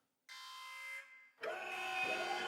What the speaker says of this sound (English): I slammed my hand down onto the alarm.